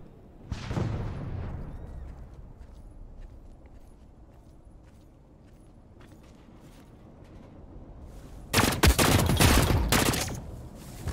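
Gunshots in the online shooter game The Cycle Frontier: one burst near the start, a long quiet stretch, then a loud cluster of sharp shots near the end, with no talk.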